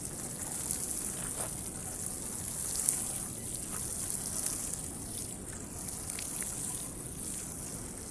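Water runs steadily through an irrigation water gate on a hillside farm, a constant close rushing and trickling wash with no talk over it.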